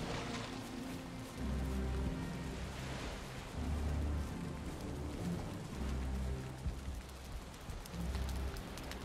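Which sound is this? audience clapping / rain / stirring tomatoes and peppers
rain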